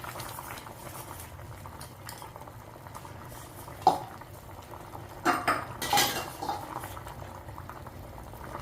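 Pumpkin tamarind curry, with fenugreek powder added, boiling in a pot: a steady, close bubbling simmer with a few sharp utensil clinks and knocks against the pot partway through.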